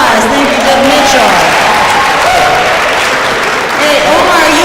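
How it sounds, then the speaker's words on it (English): An audience at a youth and justice forum gives a speaker another round of applause, loud sustained clapping from a crowd in a hall, with voices talking over it throughout. "Let's give him another round of applause"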